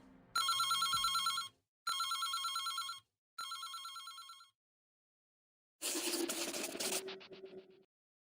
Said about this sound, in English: The phone rings, cutting her off.